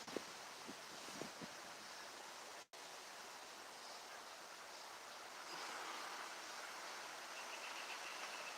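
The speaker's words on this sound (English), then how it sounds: "It's super windy out here." Steady, broad roaring wind noise buffeting outdoors, constant and fairly strong throughout with a brief dropout near the middle.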